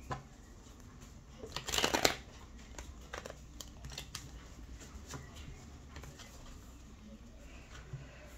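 Oracle cards being shuffled for a reading, a brief close burst of riffling and flicking paper near the start, followed by scattered soft taps and rustles against a quiet room with faint background noise.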